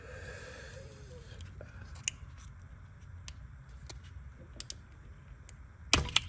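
Several small, sharp plastic clicks of an electrical connector seating, from a Ferrari 430 manual gearbox swap, spaced a couple of seconds apart, over a low steady background rumble, with a louder snap near the end.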